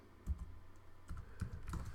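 Keys tap on a computer keyboard in short irregular bursts, close and fairly quiet, with no talking.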